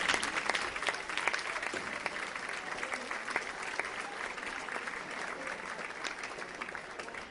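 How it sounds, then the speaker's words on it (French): An audience at a gathering in Poissy applauds, a steady, evenly dense wash of many hands clapping that continues for several seconds at moderate distance. "Vous pouvez les applaudir s'il vous plaît"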